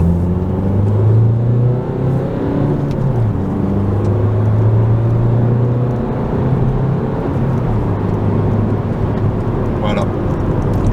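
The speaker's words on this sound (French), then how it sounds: "On va accélérer tout simplement." A 2018 Opel Astra K accelerates from inside the cabin, its engine note rising steadily in pitch through the gears, loud and close, with a dip at a gear change and a brief voice near the end.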